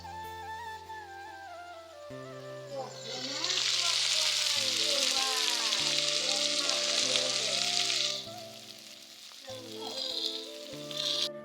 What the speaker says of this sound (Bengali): একদিকে হচ্ছে মাটির উনুনে রান্না করছি